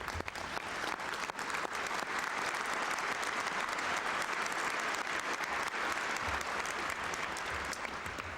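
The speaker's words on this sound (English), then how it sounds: "I'd ask if you would join me in a round of applause for my father" A banquet audience at the 1996 Golden Arm Award gives a sustained round of applause, dense steady clapping filling the hall throughout.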